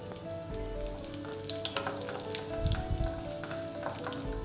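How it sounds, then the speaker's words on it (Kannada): Raisins fry in hot ghee for carrot halwa, a steady close crackling sizzle with a few louder bursts of spitting and stirring, no voices over it. "ಇದು ಫ್ರೈ ಆದ ನಂತರ ನಾನಿಲ್ಲಿ ಗ್ರೇಪ್ಸನ್ನು ಹಾಕ್ಕೊಳ್ತಾ ಇದ್ದೇನೆ ದ್ರಾಕ್ಷಿ"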